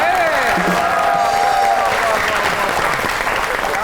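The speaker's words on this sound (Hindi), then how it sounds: "बहुत सी तालियां" A crowd applauds loudly and continuously, with dense clapping filling the whole stretch and a voice carrying over it.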